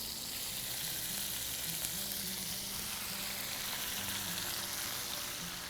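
Steady, continuous sizzling and crackling of fat frying in a hot pan, close up and fairly loud, with no talking.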